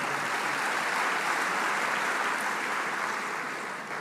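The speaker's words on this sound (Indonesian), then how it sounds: "tepuk tangan juga untuk para wakil rektor" Audience at a formal academic gathering applauding the vice rectors, a thick continuous wash of clapping that holds steady, then eases slightly near the end.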